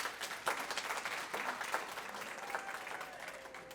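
Applause for graduates at a school graduation ceremony, steady clapping from an audience heard at moderate distance, fairly faint and continuous.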